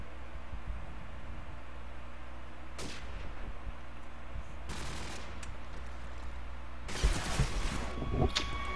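Gunfire in Call of Duty 4 during a competitive match, with sporadic shots over a steady background hiss and a denser burst of firing near the end.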